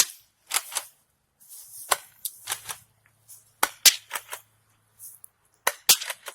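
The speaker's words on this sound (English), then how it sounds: "Nerf gun's gonna penetrate it." Nerf gun fired at a can, a series of sharp, dry snaps and pops spread irregularly with short gaps, close and fairly loud, with no talk between shots.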